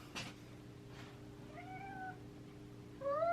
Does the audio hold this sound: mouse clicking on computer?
no